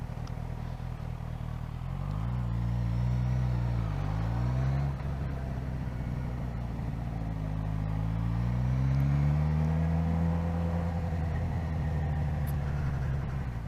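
A car driving at low speed, a steady close engine hum that rises and falls as it accelerates and eases off, with light road rumble and occasional clatter, no talking.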